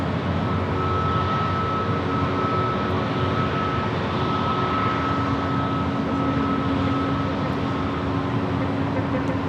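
An Airbus A321neo airliner's jet engines at Los Angeles LAX airport, a continuous broad roar with a steady whine, heard from a distance and holding level throughout.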